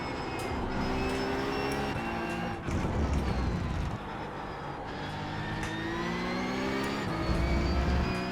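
A race car engine in the iRacing sim game drones steadily at high revs, climbing in pitch through gear changes with sharp shifts, loud and continuous with no talking.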